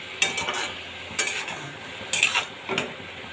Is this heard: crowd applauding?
no